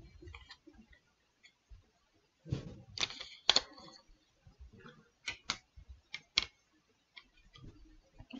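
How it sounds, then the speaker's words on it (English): Fabric being cut for a paper-pieced quilt block, a handful of sharp, crisp snips and clicks spaced irregularly, close and fairly quiet, with faint low murmurs between. "And we're going to cut."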